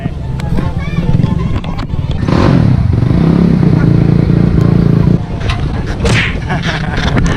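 A 450 cc motorcycle engine idles and revs steadily close by, its rumble running under lively conversation and laughter from people gathered at a trail park.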